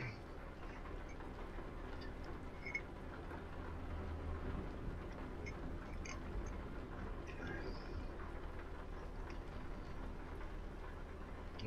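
Thunderstorm weather in Euro Truck Simulator 2: a steady, close wash of rain with a low rumbling undertone that runs evenly for the whole stretch, with no talk.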